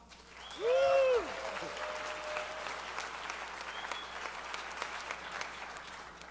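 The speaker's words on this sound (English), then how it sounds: "give them another round of applause" A crowd at a DEF CON talk applauds steadily, with a loud rising-and-falling whistle early on before the clapping carries on alone.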